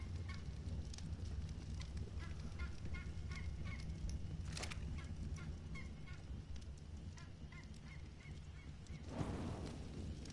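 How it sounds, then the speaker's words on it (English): A bird calling in the survival video game ARK: Survival Evolved: faint, repeated honking calls set against a quiet, steady crackling background, with a brief louder burst near the end. "I can hear a bird, but like I've got no idea where it is"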